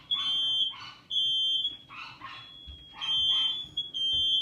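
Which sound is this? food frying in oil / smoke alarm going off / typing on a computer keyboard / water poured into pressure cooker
smoke alarm going off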